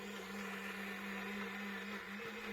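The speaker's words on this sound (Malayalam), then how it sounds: "മല്ലിയിലയും വെളുത്തുള്ളിയും ഇഞ്ചിയും അതെല്ലാം ഇട്ട് പയ്യൻ മിക്സിയിലിട്ട് അടിച്ച്" A mixer grinder whirring steadily as it grinds coriander leaves, garlic and ginger, a continuous motor hum with a rough churning texture, close and even throughout, no voices.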